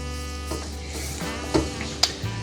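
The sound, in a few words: onions sizzling in butter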